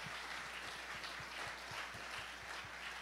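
A church congregation applauds for its pastor with a faint, steady clapping wash and a regular beat under it, distant and low in level throughout.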